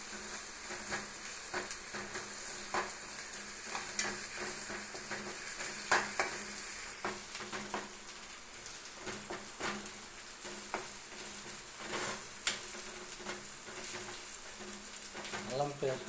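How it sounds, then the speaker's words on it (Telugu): Ginger garlic paste frying in a pan for a prawn fry, giving a steady close sizzle with repeated sharp clicks and scrapes from stirring throughout. "అల్లం చిన్నులపాయ పేస్ట్ వేసినాక కూడా వేగించాలా, దాన్ని కూడా ఎర్రగా వేగాలి."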